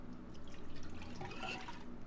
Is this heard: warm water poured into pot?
yes